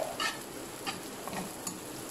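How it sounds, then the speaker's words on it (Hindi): Onions and green chilies sizzle quietly in a pan with a constant crackling hiss, broken by a few soft stirring scrapes. "बस मैं इनको हल्का सा फ्राई करती हूँ।"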